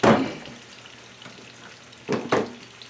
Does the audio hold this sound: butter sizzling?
yes